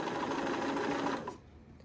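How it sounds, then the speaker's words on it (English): A sewing machine runs steadily for about a second and a quarter, stitching black quilt pieces together for a ring pattern, then stops abruptly, close up and alone. "we will sew 2 black together"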